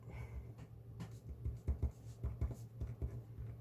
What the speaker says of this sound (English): So we'll write our assumption step